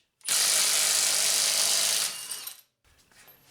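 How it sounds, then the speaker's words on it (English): A 3/8 inch Milwaukee impact wrench works on the lug nuts of a Honda Civic in one loud, rough burst of about two seconds, then trails off into quiet shop noise. "This 3/8" Milwaukee impact wrench typically can get lug nuts like this off of a Civic."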